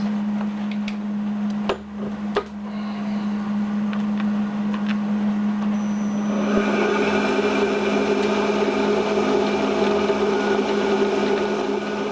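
Lathe-style machining cutting the inner diameter of a metal armature part, a steady loud motor hum with a constant tone, joined partway through by a denser, harsher cutting noise that continues to the end.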